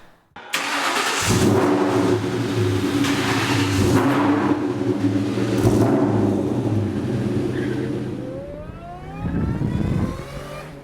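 A Ford Mustang's engine cranks and fires up, then settles into a loud, steady rumbling idle close by before revving higher as it pulls away to drive.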